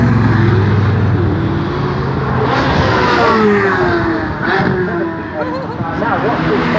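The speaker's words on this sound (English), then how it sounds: "Maserati making all the noise." A Maserati sports car's engine roars loudly at a Bournemouth wheels festival, revving and passing close by amid a crowd, with people talking underneath.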